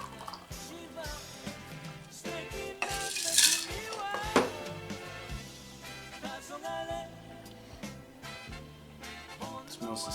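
A cocktail shaker holding a 50-50 mix of Strega and Lemon Clove Gin rattles and clinks steadily with ice, close and fairly loud, with a few sharper knocks partway through and no talk.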